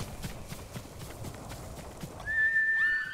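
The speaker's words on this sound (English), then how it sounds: "Horse." A horse's hooves clip-clop in a quick rhythm in the video game Ghost of Tsushima, then it neighs with a high, wavering whinny; moderately loud and fairly close.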